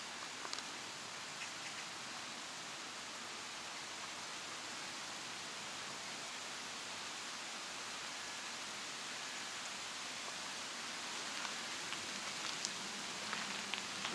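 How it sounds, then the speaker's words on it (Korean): Heavy rain falls at a playground, a faint, steady hiss of drops hitting surfaces that runs continuously, with a few sharper drip ticks near the end. "비 많이 오네."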